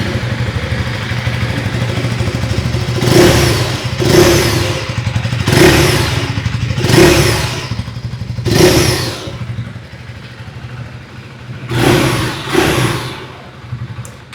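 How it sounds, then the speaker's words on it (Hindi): Exhaust note of a 2026 KTM Adventure 390 with its 350cc engine, blipped in a series of loud, close revving bursts separated by a steady idle, two quick revs coming near the end. "आइए अब सुन लेते हैं इस बाइक की एग्जॉस्ट नोट।"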